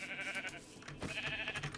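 A sheep in Minecraft Bedrock Edition bleats with wavering, nasal calls, repeated several times up close and fairly quiet, with no talking over it.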